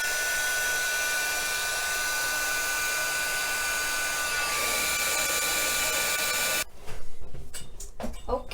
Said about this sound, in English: I'm going to turn my heat gun on first to get it hot, and then I'm going to point it down.